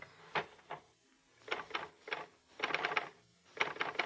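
Muffled typing on a portable typewriter resting in a lap, with irregular bursts of several dull key strikes separated by brief pauses, faint and close.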